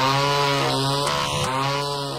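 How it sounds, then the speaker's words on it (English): A loud chainsaw engine drones continuously, revving and buzzing close up with a harsh mechanical whine. "and of course this really loud chainsaw"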